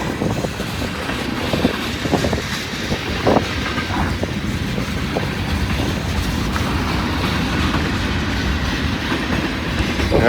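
A long train rolls past on the railway on a windy day, a loud continuous rumble and clatter of wagons with wind buffeting the microphone throughout.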